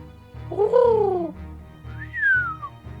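A human voice imitates a weird little whistle, making two short wavering whistled tones, the first sliding downward and the second a higher falling glide, close and clear over a faint hum.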